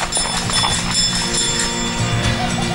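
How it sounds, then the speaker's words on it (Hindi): A bicycle bell rings with bright, sustained metallic tones over a rhythmic, clopping sound-effect backdrop, loud and close. "बज गई एक घंटी।"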